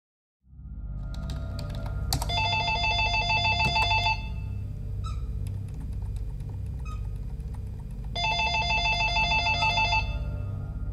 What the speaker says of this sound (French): son téléphone se met à sonner